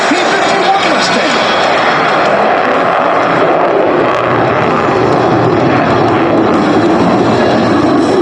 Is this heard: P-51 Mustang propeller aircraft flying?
yes